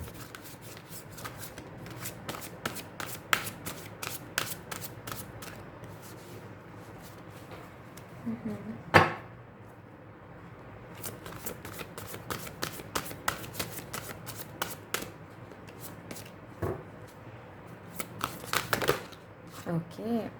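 Tarot-style chakra cards riffled and shuffled by hand in repeated crisp bursts, with quieter pauses between, close and fairly clear against a soft room background.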